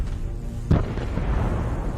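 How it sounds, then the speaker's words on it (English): Artillery strike hitting a Russian armored infantry fighting vehicle in a combat zone, a single distant heavy boom followed by a low rumbling tail over background noise. "This gave the artillery time to take aim and destroy the armored vehicle."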